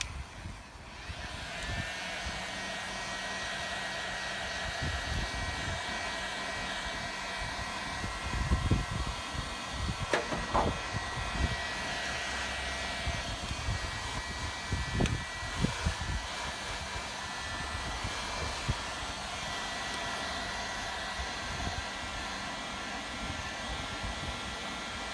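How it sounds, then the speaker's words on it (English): A heat gun blowing hot air across a car fender during arch rolling, a steady loud whooshing roar that runs continuously with small bumps and knocks from handling. "try not to keep the heat gun in the same place for too long"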